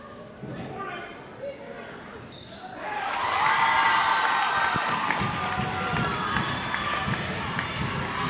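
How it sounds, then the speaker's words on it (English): Crowd at a high school boys basketball game roars after a made free throw, swelling from a steady gym murmur into loud sustained cheering and applause that carries on to the end. "Garners huge crowd reaction"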